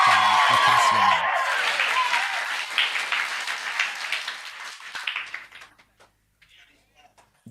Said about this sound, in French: Applaudissez Dieu.